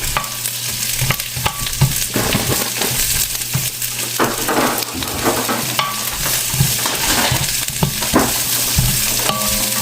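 Onions frying in oil in a pan, with a continuous close sizzle broken by scraping and stirring clicks of the utensil.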